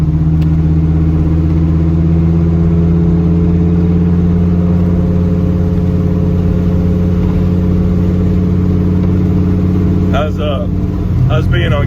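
A 1993 Dodge Viper RT/10 with a race exhaust, its engine held at a loud steady drone for several seconds before a brief rise and dip in revs near the end.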